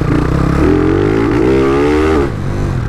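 A Honda Twister motorcycle accelerates hard on a city avenue. Its engine note rises steeply in one loud, close pull, then eases off at the end.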